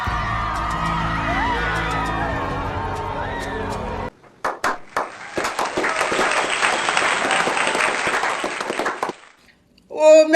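An audience claps loudly and steadily for several seconds after a stretch of music and voices, with scattered cheers, then the applause cuts off.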